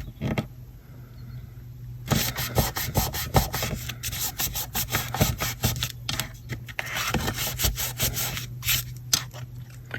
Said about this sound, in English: And a really good burnish and hold.